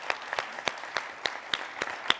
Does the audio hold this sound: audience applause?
yes